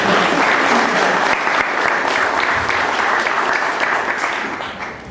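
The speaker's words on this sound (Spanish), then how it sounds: "quisiera que lo recibamos con un fuerte aplauso a nuestro director" A conference audience bursts into strong, sustained applause to welcome a speaker, dense clapping from a full room that holds steady before gradually fading toward the end.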